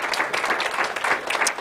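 A church congregation applauds during a Spanish-language service, a dense wash of many hands clapping together, steady and fairly loud throughout the brief moment.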